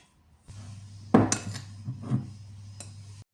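A spoon stirs flour into dumpling dough in a bowl in a home kitchen, giving a few close metallic clinks and scrapes against the bowl amid quiet background.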